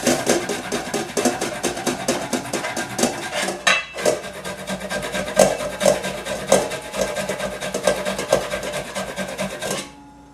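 Fresh ginger rasped against a box grater, a steady run of close, scratchy strokes in quick rhythm that pause briefly near the middle and stop at the end.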